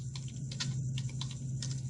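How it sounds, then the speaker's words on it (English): Keystrokes on a computer keyboard tap out a short burst of typing over a steady low hum, the clicks close and fairly quiet with uneven rhythm. "I can get to eCampus quite easily by typing"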